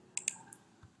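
Two quick, light clicks of a computer mouse sound close together near the start, followed by a faint third tick, all soft and close against a quiet room.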